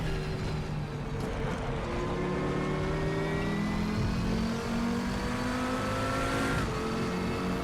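Audi TT RS VLN race car in the RaceRoom sim at the Nordschleife, its engine note climbing and shifting through gears in steady rising sweeps, a continuous close whine and growl with no voices.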